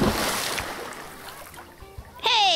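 Water splashing in a pool, with a wash of broadband splashing and turbulence that dies down over a couple of seconds, then a sudden loud, close burst of splashing near the end.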